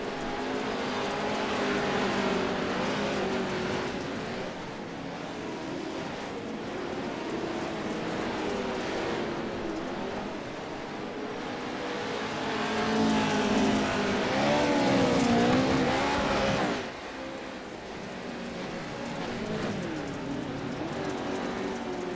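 Offroad race cars in iRacing battle for the lead at the Crandon 100 special event, their engines droning steadily and swelling as they rev hard through a corner before dropping off, heard alone at a moderate distance.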